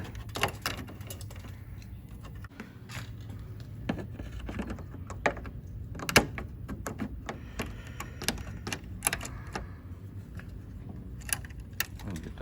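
Plastic grille clips are pried off a 2014 Toyota Tundra during radiator work, giving a scattered series of small, close clicks and snaps over a low background hum.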